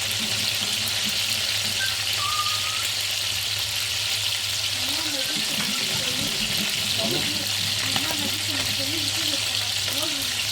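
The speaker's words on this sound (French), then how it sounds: "Amène la viande, voilà. Et laisser dorer ça gentiment." Duck meat browns gently in a pan for a cassoulet, giving a continuous close sizzle and crackle, with a voice talking over it in the second half.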